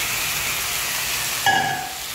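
Mixed seafood drops into a hot pan with garlic and bursts into a steady hiss of sizzling that starts suddenly partway through, close and moderately loud over quiet background noise.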